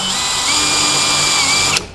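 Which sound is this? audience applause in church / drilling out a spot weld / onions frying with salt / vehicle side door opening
drilling out a spot weld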